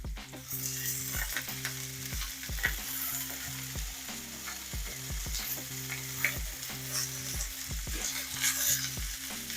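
Chicken sears in a hot pan for a sandwich, giving a loud, steady sizzle and crackle throughout, with brief scraping clinks as pieces are shifted and a low tonal hum underneath.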